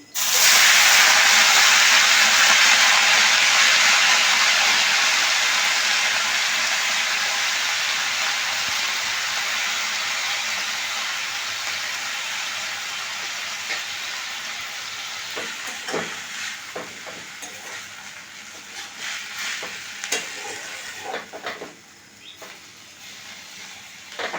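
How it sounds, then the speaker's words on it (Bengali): Amrul greens (sorrel) drop into hot oil with mustard seeds and a dried red chilli, setting off a loud, close hiss that slowly fades over about twenty seconds as spatula scrapes and stirring clatter come in. "তেলে দিয়ে দিলাম শাকটা দিয়ে দিচ্ছি"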